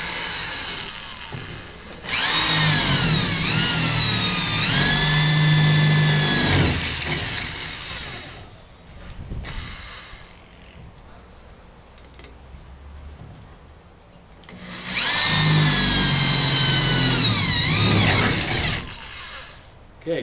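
Two long bursts of a high-pitched power drill whirring and straining while drilling a patio awning gutter, each several seconds, separated by a quieter stretch with faint background noise.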